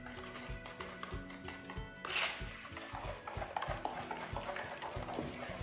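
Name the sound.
stirring bran muffin batter with oil in a bowl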